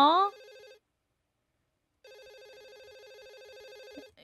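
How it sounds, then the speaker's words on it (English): A telephone rings in a video game, with two electronic bell bursts separated by a pause of over a second; a voice is briefly heard at the start. "I guess I have to answer the phone."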